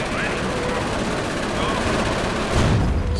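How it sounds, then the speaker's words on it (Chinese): Artillery bombardment in the strategy video game Company of Heroes, a steady barrage of dense rumbling blasts that swells into a heavier, louder burst near the end, with voices talking over it. "我炮击来了"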